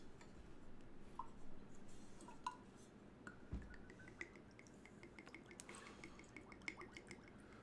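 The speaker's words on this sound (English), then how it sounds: "Nice heavy pour." Calumet Farm 14-year-old small batch Kentucky straight bourbon poured heavily into a glass: faint liquid trickling with a few drips and light clinks, quiet and close, no talking.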